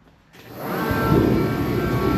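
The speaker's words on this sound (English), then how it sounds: "we're gonna turn on the heater real quick" A shop heater switches on after a brief quiet moment, then runs with a steady, loud broadband roar and a faint high whine.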